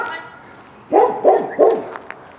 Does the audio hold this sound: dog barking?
yes